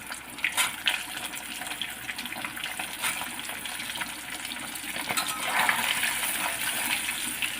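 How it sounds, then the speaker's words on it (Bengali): Boiled potatoes sizzle and crackle in hot oil for a homemade biryani, a steady frothy hiss with scattered pops, close and fairly loud throughout, with no talking. "তেলটা গরম হয়ে গেছে, আলুটা ছেড়ে দিচ্ছি।"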